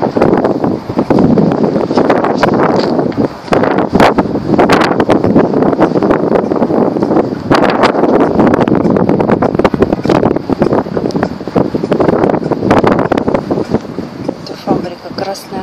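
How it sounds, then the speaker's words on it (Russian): Strong gusty wind buffets the microphone outdoors near a large factory and a monument to Peter I, a loud continuous roar with repeated sharp gust bursts throughout. "Ветер сильный."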